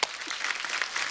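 Studio audience at the Kapil Sharma Show, a Hindi comedy talk show, bursts into applause: a steady, dense wash of clapping that holds evenly through the short moment with no voices on top.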